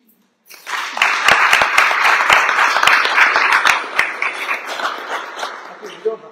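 An audience claps after a poem is read at a spoken word event, a steady round of close hand claps with sharp individual claps standing out, running several seconds before easing off.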